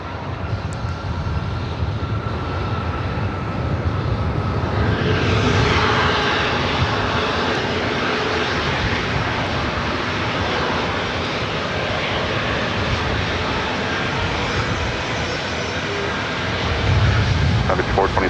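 An airliner lands on runway 24 right at LAX, its engines a loud, sustained roar that swells midway and holds steady, with radio chatter faintly beneath.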